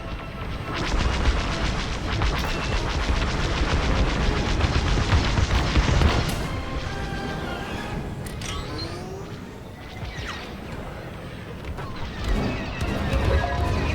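Heavy blaster fire in Star Wars: Squadrons: rapid laser shots and booming impacts pile into a loud, sustained barrage, with engine roar underneath and scattered explosions.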